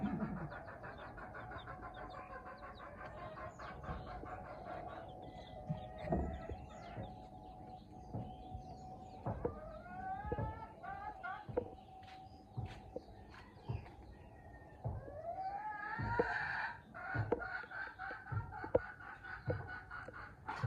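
Chickens in a coop cluck and call intermittently at moderate distance, with scattered rustles, thumps and footsteps around them and no talking.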